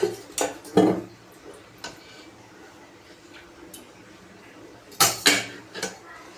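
A metal spoon clinks against a kadhai as two spoonfuls of oil go in for sabudana khichdi. There are a few sharp close taps near the start, then a quiet stretch, then another cluster of clinks toward the end.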